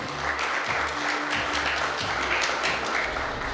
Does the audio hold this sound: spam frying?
no